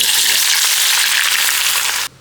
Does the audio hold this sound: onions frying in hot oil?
yes